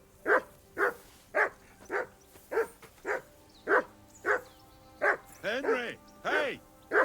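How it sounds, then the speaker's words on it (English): A dog in the medieval game Kingdom Come: Deliverance II barks in a steady run of about a dozen evenly spaced, fairly close woofs, with a few whining, wavering yelps near the end. "Henry, hey! Call off that mutt of yours."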